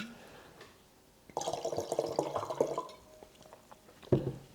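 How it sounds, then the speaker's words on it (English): Grey Heron cider from Perry's pours into a glass in a short, close splashing stream with trickling and dripping, ending in a brief louder splash. "I'll just pour a little bit more in the glass."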